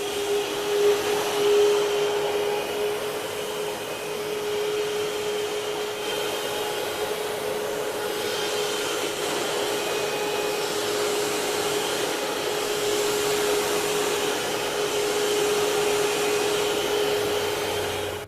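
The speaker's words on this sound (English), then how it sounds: "let's take a look at how strong the suction power of this Parkside wet and dry vacuum cleaner is" A Parkside wet and dry vacuum cleaner sucks up water, its motor a steady, loud whining roar with a constant tone running unbroken for the whole stretch, close by and with no voices over it.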